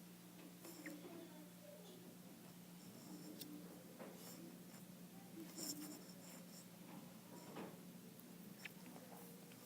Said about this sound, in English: Now, when I go to graph this, we'll draw our 3 number lines here.